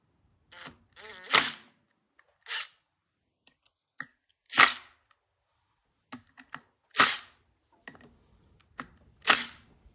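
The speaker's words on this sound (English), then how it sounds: "Just usually needs a little tap from a mallet to loosen it up." A mallet taps a clutch part on a Kawasaki 110 to knock it loose, giving several sharp, separate knocks spaced a second or two apart, close and fairly loud against near silence.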